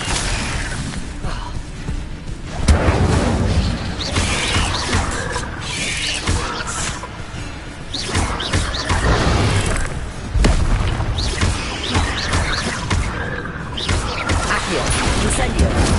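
Repeated fire spells cast in Hogwarts Legacy burst out as loud booming blasts and whooshes amid dense game combat, with a voice shouting spell names over the din throughout.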